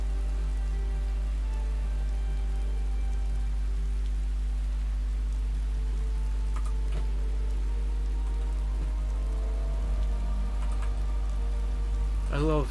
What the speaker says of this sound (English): I wish it'd stop raining though.